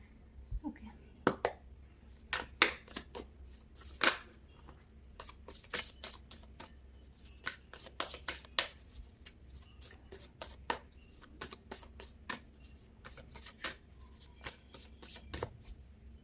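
Tarot cards are shuffled and drawn by hand, producing a long run of quick riffling flutters and soft card slaps in irregular bursts, close and fairly quiet, with occasional faint background voice.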